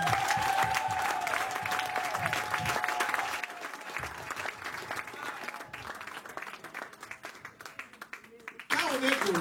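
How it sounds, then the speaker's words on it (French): Applause from a congregation at a French-language church service, a sustained wash of clapping under a preacher's voice, thinning out before a short renewed burst at the end. "Donnons une acclamation."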